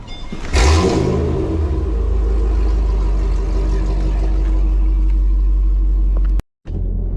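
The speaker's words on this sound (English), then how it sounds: "the 10th cool thing about this car will be the way you start it up" A Mercedes R230 SL55 engine fires up by push button with a sharp burst, then settles into a loud, deep, steady idle rumble close by before cutting out abruptly near the end.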